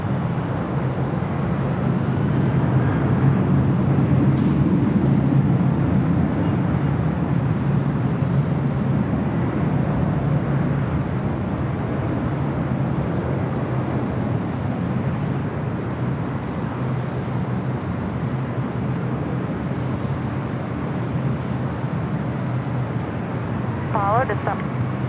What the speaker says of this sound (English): That was the A330 heading back to Copenhagen, taking off there on the south side.